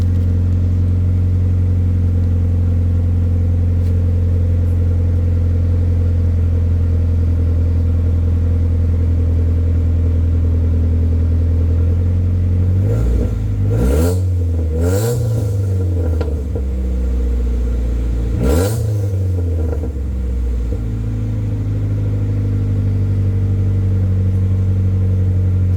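Honda Civic engine after an ignition change, idling with a steady low rumble, then revved in three sharp bursts that rise and fall before it settles back to idle, close and loud.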